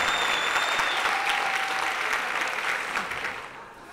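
Applause rises from a comedy roast audience, a burst of clapping that is strongest at the start and gradually thins and fades over about four seconds, with no voices over it.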